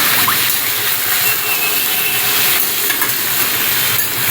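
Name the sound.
diced potato and pumpkin frying in oil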